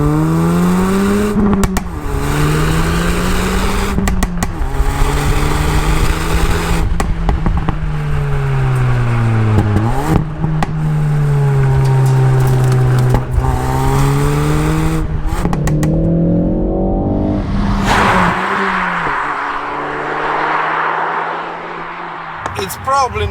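A 2020 Ford Focus ST exhaust rumbles loud and close, rising and falling through repeated revs with a sharp burst near the end, and a voice speaks over it at times.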